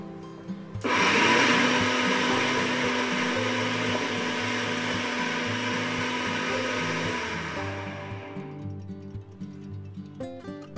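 An electric spice grinder whirs loudly and steadily for several seconds, pulverising dried red chillies into a dry powder, then winds down and stops, followed by faint rattling and handling noises.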